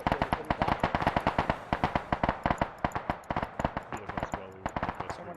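Rapid gunfire in the military video game Arma 3, a dense run of sharp automatic shots fired in quick bursts with brief gaps, loud and close, under faint background voices.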